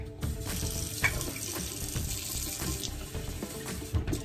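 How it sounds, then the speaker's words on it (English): Tap water runs steadily into a measuring cup while baking apple crumble, a continuous close splashing rush with small bumps of the cup, no voices. "A half a cup of water."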